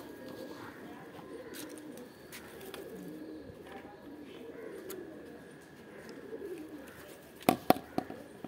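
Pigeons cooing softly in an outdoor spot on a bright morning, low repeated coos under faint ambient noise, ending with a few sharp knocks or clatters.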